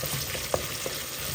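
Chicken mince curry fries in a pan with onions, garam masala, ginger and garlic, a steady soft sizzle with a couple of small pops and light stirring scrapes, fairly quiet and close.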